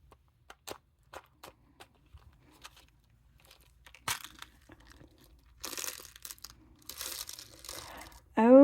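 Taped packets of bead mix being torn open and crinkled by hand, a scatter of sharp rips and crackles building into longer rustling bursts, close and fairly quiet with pauses between.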